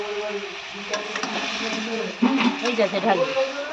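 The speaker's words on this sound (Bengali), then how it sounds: "এই দেখতে পাচ্ছেন ঝালটা ফুটছে আর এখানে দিয়ে দিলাম মাছগুলো" Fish pieces dropped into a boiling spicy Bengali fish curry, a close bubbling sizzle that grows louder midway with a few clattering stirs, someone talking over it.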